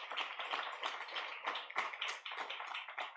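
Conference audience applause fills the hall, a dense, fairly quiet patter of many hands clapping steadily for a few seconds with no voices.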